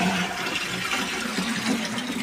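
Five liters of water being poured out, a loud continuous rushing gush close by that lasts a couple of seconds, with no talk.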